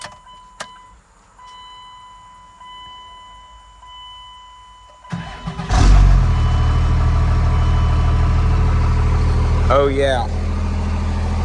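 A 2G Cummins diesel pickup with its exhaust cut underneath the truck cranks and starts, then settles into a loud, harsh, rumbling idle; someone speaks briefly before it fires.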